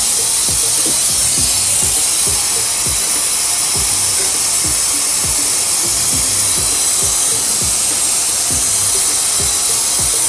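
A Matco coolant refill tool runs on shop air to pull a vacuum on a cooling system, giving a loud, constant hiss with a rapid low pulsing beneath it.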